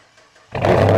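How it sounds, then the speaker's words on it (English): A Dodge Durango's 345 Hemi V8 fires up abruptly after a brief quiet moment, catching into a loud, close, rumbling idle. "let's go on and give it a nice little start to really give it that Hemi"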